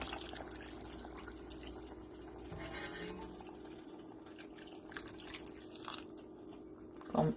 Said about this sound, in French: Je vais mettre l'eau.